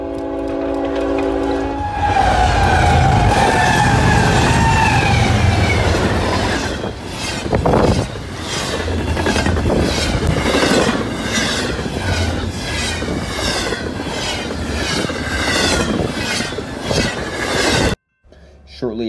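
BNSF eastbound intermodal freight train led by a Tier 4 GE Evolution locomotive speeding through signals in a snowstorm, loud and close: horn blasts early on, then a steady rumble and rhythmic clatter of cars rushing past, ending abruptly.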